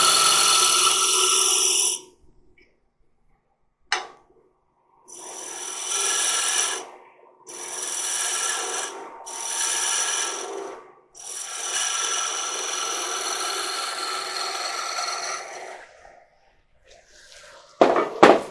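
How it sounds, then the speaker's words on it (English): Fine finishing cuts from a woodturning tool on a long-stem wooden goblet spinning on the lathe: steady raspy scraping in several passes of a few seconds each, separated by short pauses, close and fairly loud. "So we'll just take some finer cuts."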